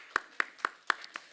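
A church congregation claps in unison, five crisp, evenly spaced claps in a slow rhythm, as the children's department leaves the service.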